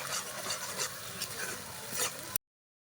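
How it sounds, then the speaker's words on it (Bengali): Spice masala paste for rohu fish kalia fries in a pan, a soft continuous sizzle with repeated spatula stirring strokes, fairly quiet and close, ending abruptly. "ভালো করে মশলাটা ভাজতে হবে"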